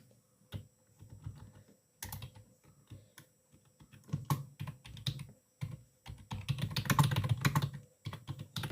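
Computer keyboard keys clatter in irregular bursts of close typing, quick strings of clicks with brief pauses between, growing busier toward the end, with no one talking.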